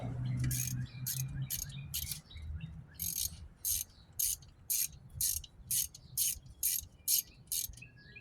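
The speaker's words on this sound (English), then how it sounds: "I'm just going to use this little small ratchet" A small hand ratchet works loose the alternator bolt on a 1997 Toyota Corolla, giving a close, steady series of crisp, evenly spaced clicking bursts with no talking.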